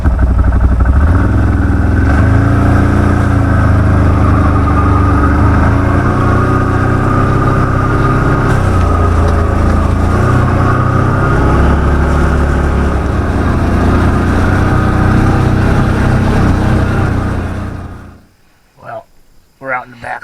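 A 2019 CFMOTO Zforce 1000 side-by-side drives through woods, its engine droning loud and close with shifting revs for most of the stretch, then shutting off into near silence with a few faint knocks.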